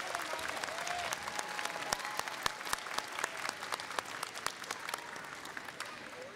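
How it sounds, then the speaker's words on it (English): Steady, dense applause from a sizable audience at a choral festival concert, with sharp individual claps standing out throughout. "give yourselves a round of applause"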